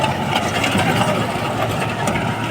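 A John Deere 5210 tractor drawing an Arise hydraulic plough runs with a steady, close mid-to-low engine throb, continuous and even, with no voices.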